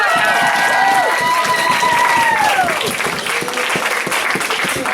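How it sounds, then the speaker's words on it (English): Martial arts school graduation crowd applauds its graduates with sustained, loud clapping from many hands, mixed with cheers and a few whooping voices riding over the top. "Let's give everybody a round of applause."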